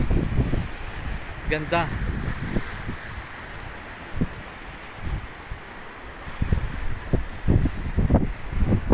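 Strong wind at a seaside spot near a cemetery in the middle of the sea, blustering steadily into the microphone with gusty thumps, mixed with surf and brief voices.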